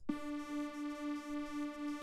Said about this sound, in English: you can really hear that the signal is going from one side to the other